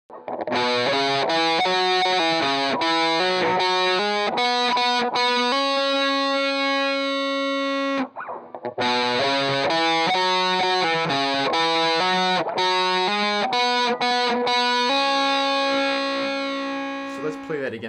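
A distorted electric guitar plays a phrase from a guitar solo: quick picked notes, a long sustained bend in the middle, then more rapid notes, loud and close.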